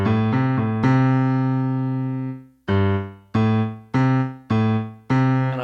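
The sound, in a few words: piano lick doubled by left hand an octave lower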